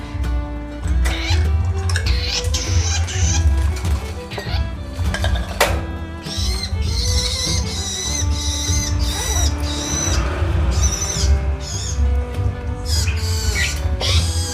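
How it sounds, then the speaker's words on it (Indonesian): Several caged long-tailed shrikes, young birds kept together, chirp and squeak constantly. Their busy overlapping calls sound close and fairly loud over a low background hum. "kenapa bunyi miyik, bunyi toet-toet terus? Karena ini berkumpul jadi satu"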